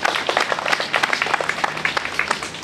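Applause from an audience at the handover of a renovated building on Ifjúság Street: a steady, dense patter of many hands clapping, moderately loud and continuous throughout.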